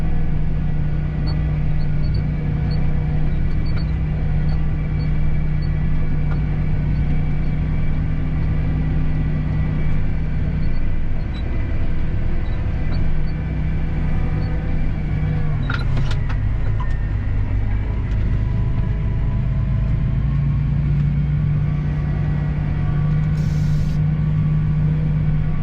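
Farm truck engine idling with a jumping throttle, a steady low rumble that dips and surges in pitch around the middle and again later, heard from inside the cab with a brief rattle, no talking.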